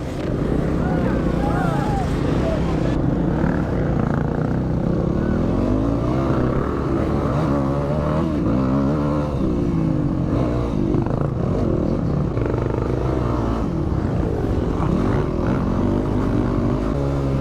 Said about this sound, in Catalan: Va la moto!